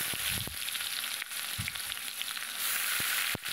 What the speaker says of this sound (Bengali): কুচনো পেঁয়াজটা একটু নেড়ে নিয়ে যে গ্রেট করা পেঁয়াজ ছিল সেটাও দিয়ে দিলাম